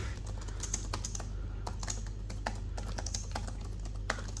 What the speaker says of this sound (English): The keys have good bit of travel as well, so when you press them you get a good feedback